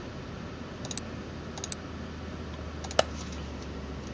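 Keyboard arrow keys are pressed a few times during play of Car Mechanic Simulator 2021, giving sparse, sharp clicks, the last one louder, over a quiet background hum.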